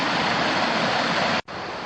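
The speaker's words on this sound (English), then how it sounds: "Get to see part of the water running through." A forest stream runs steadily beside a trail in Hickory Run State Park in the Pennsylvania Poconos on a drizzly day, giving a continuous, fairly loud rushing wash that cuts out for a moment near the end.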